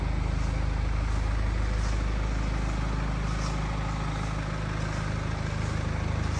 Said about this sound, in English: You hear the cars ticking over really nicely in the showroom.